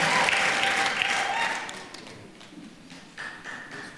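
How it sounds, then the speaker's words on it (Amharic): A church congregation applauds, a dense burst of clapping that is strongest at first and then thins and fades, with a voice rising faintly near the end. "አጨብጭቡለት እስቲ ለጌታ ክብር ጭብጨባ"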